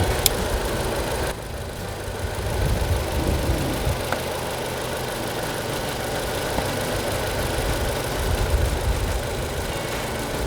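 A car engine idling steadily during a battery voltage check, a continuous low rumble with slight knocking texture, close and even throughout with no voices.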